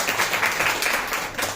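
A class audience at a talk on life lessons from the Mahabharata breaks into brief, dense applause, steady clapping from many hands filling the room for a moment.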